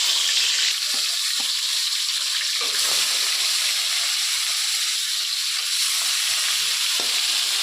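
Fish pieces coated in salt and turmeric frying in hot mustard oil in a wok, a loud continuous sizzle and hiss with occasional faint stirring scrapes, close and without talk.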